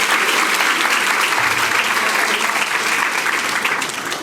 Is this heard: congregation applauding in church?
yes